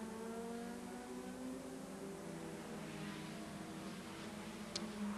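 Race cars in a Goodyear Eagle Cup race on the Aalborg city street circuit are heard as a faint, distant, steady engine drone. The whine rises slightly as they approach.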